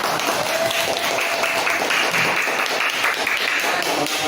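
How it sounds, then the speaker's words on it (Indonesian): A classroom group of teachers-in-training claps for a presenting group, dense steady applause filling the room throughout without pause. "Kita beri tepuk tangan untuk kelompok"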